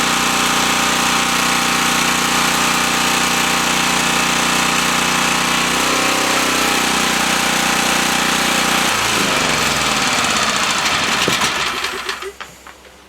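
Small Champion 1500 portable generator engine running loud and steady near by, its drone shifting pitch partway through before the engine cuts out and winds down to a stop.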